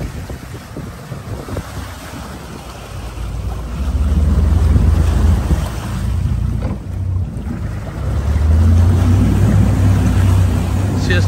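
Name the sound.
twin-engine boat pivoting on water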